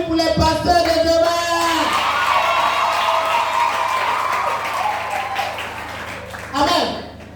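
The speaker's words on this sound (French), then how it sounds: "On peut applaudir pour les pasteurs de demain." A church congregation applauds and cheers during a French-language service, with broad crowd noise sustained through most of the clip under a loud voice, then a brief swell near the end.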